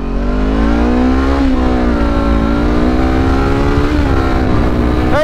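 A 2020 Honda CBR500R motorcycle accelerating hard in a 0-60 mph test, a loud, close engine note climbing steadily in pitch through the gears with brief shifts, nearly continuous and without talking.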